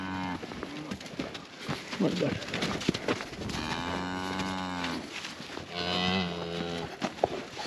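A cow on a farm, penned with her calf, gives several long, loud moos, with a brief spoken remark and faint bird calls between them.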